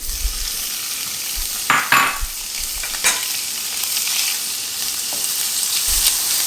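Shrimp fry in a little rendered sausage fat with a steady close sizzle, broken by a few scraping stirs and clanks of a utensil against the pan.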